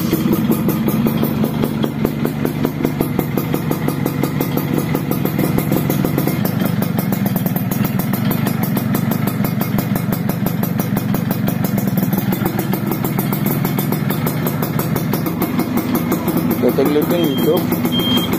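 Used motorcycle with silver repaint and a 'double jreng' setup, running at idle close by, a steady loud rattling engine putter with a rapid even pulse for the whole stretch, no voices.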